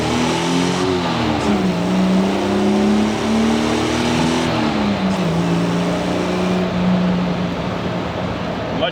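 A 1959 Jaguar XK150 accelerates hard at full throttle, its engine note climbing steadily through the gears with a brief dip at each shift, loud and close with no talking over it.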